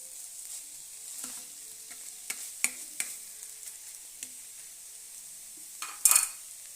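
Spinach thoran with coconut oil frying in a pan, a soft, steady sizzle broken by a few sharp clicks and scrapes of stirring and a louder clatter near the end.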